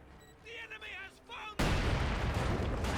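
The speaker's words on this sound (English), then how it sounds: "he's detonating the landmines with the incendiary grenades" A loud blast as a landmine is set off by an incendiary grenade in the World War II strategy game Company of Heroes 2, a sudden broadband roar that cuts in after a brief stretch of speech and rumbles on to the end.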